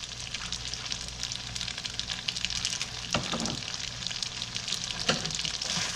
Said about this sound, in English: Just mix the pasta.